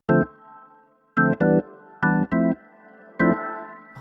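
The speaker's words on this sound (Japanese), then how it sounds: "でこれスプリングリバーブかな。" Short Hammond B-3 organ chord stabs played in a loose rhythm through a spring reverb, each leaving a springy, ringing two-second reverb tail that fades between hits.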